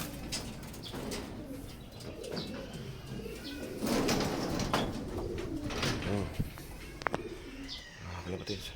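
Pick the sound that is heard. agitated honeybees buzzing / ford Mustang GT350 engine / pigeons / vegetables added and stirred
pigeons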